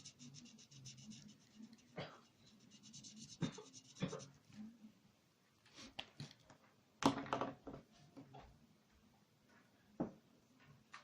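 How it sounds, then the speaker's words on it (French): A Pastel Blue Twin Marker colours in a unicorn pickaxe drawing on paper. It gives faint, scattered scratchy strokes and taps against a quiet background, with soft bursts of movement in between. "on va prendre la couleur Pastel Blue des Twin Markers pour colorier le reste"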